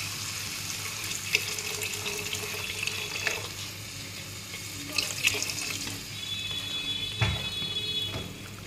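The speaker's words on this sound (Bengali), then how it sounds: "এবারে জল দিয়ে দেব।" Water pours into a pan of chana dal, a soft, steady rush of liquid close by with a few faint metallic clinks and a thin tone partway through.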